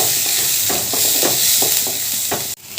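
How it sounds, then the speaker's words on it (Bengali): Chopped onions frying in mustard oil, a loud close sizzle broken by repeated stirring scrapes, then a brief dip as the sizzle cuts out and returns. "পেঁয়াজগুলো আবার একটু ভালো করে ভেজে নিলাম"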